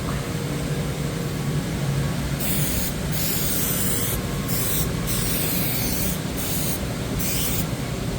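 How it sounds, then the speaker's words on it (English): Bursts of hissing spray adhesive, several short blasts in a row with brief pauses between, close by over a low background hum while building cabinets. "A little of the spray adhesive."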